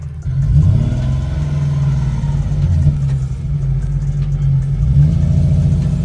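A Nissan 370Z engine idles with a deep, throaty exhaust rumble close by, holding steady with slight swells in revs.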